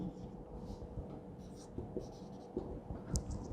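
A pen scratches steadily across a board or page while a worked physics answer is written out during a lecture, soft and close with a low room hum underneath.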